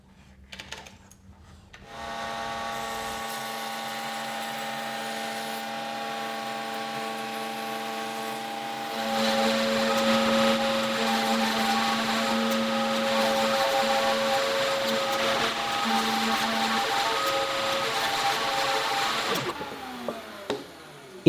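A router with a large guide-bearing bit cuts big tenons in wood, working from a template. The motor spins up and then holds a loud, steady whine for most of the clip. The pitch shifts partway through as the bit bites into the wood, and the motor winds down at the end.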